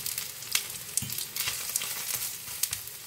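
Okra fritters sizzle in oil in a hot pan on a stovetop, a steady close frying hiss with scattered pops and crackles throughout, with no talking.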